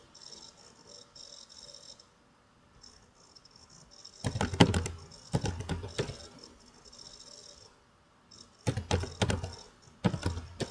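An address is typed on a computer keyboard in two quick, close bursts of clicking keys separated by a short pause, with faint tapping and a quiet hiss in between.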